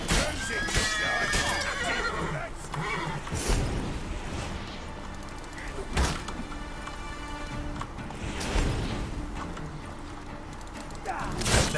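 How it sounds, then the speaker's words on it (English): A horse in The Witcher 3: Hearts of Stone gives a loud, close whinny near the start. Hoof clip-clop and busy game sounds continue throughout, with several further bursts. "Get out of the way, Roach! Oh god. Holy shit, fucking horse"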